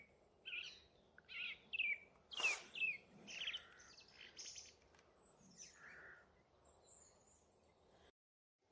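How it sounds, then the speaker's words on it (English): Song thrush singing outdoors on a local nature patch in East Tilbury: a run of clear, repeated phrases, fairly close and loud against quiet background, fading before a short silence at the end. "I've got another song thrush up here as well."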